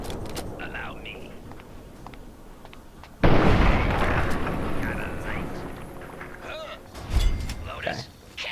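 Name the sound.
missile launcher explosion in a video game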